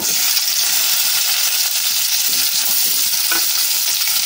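Green beans drop into hot mustard oil in a pan and fry with a loud, dense, continuous hiss and crackle. The sizzle stays steady and close, with faint stirring and no talk.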